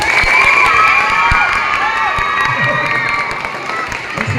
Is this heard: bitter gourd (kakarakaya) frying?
no